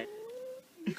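A cat gives one drawn-out, wavering meow, fairly close and moderately loud, followed by a brief rougher burst of sound at the end.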